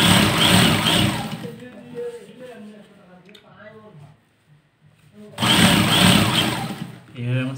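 A sewing machine stitches a fine seam on a Kallidar Punjabi, running in two loud, steady whirring bursts with a quieter stretch of a person talking between them.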